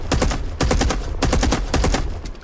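A PKM machine gun in a video game fires in loud, rapid bursts. Three or four quick strings of sharp, evenly spaced shots are split by brief pauses.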